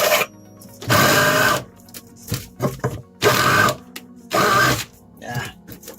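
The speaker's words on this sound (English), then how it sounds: "I got to drill the hole out bigger." Power drill enlarging a hole for a boat's exhaust pipe during a bilge and subfloor refit, three loud sustained whirring bursts of about half a second to a second each, separated by quieter clanks and handling noises, close by.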